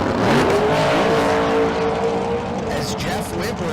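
A 1988 Ford Mustang drag racing down the strip at a Las Vegas street car event, its engine roaring loudly and steadily with rising and falling pitch as it passes, over the crowd and commentary, with a voice talking throughout.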